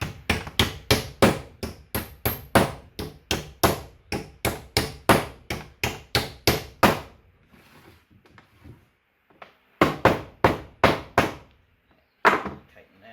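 Hammer blows drive nails into wooden bee boxes in a steady rapid series of loud, close strikes for about seven seconds, then a pause and a shorter burst of four or five strikes, with one final hit.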